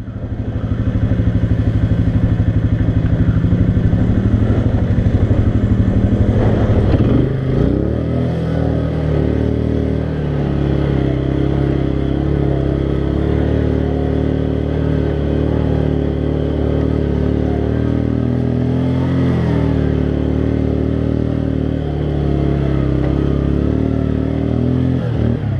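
A Can-Am Outlander ATV engine runs steadily and loud up close, a continuous droning rumble with a brief revving shift partway through and occasional clattering thumps as it moves over rough ground.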